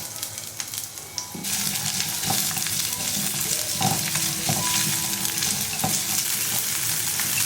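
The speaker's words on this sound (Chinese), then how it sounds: "然后来起锅热油，把料头放进来爆香" Chopped aromatics and spring onion hit hot oil in a wok, a loud sizzling burst that settles into a steady crackle with repeated scrapes and knocks of stirring close by.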